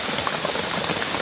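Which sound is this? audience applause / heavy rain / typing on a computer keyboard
heavy rain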